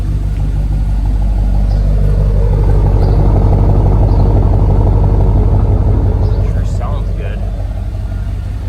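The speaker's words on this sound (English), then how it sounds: "Idle's a little lower than I want it to" Idling 1994 GMC C1500 pickup with a 350 TBI V8, a steady low rumble running close and loud throughout, with someone talking over it.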